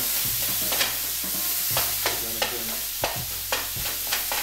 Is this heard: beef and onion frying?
yes